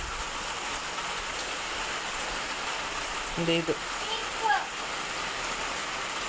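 Steady rain falls outside, a continuous, even hiss heard at low level throughout, with a brief voice and a couple of faint knocks near the middle.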